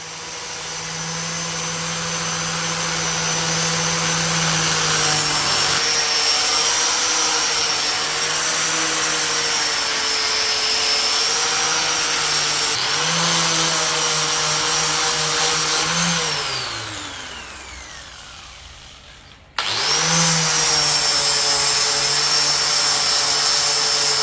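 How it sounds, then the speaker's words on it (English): A high-pitched whining angle grinder sands a walnut wood slab continuously, its pitch dipping under load, winding down near the end, then starting up again loudly. "I started sanding with an angle grinder to remove them"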